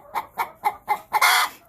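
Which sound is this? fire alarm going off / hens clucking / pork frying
hens clucking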